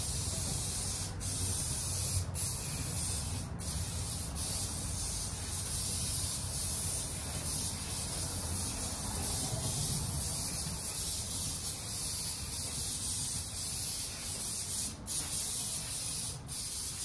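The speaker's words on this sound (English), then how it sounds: "We'll just spray the crap out of the other side." Aerosol spray can hissing steadily inside the cab of a 1978 Ford F100, a continuous close spray with a few brief breaks and no talking.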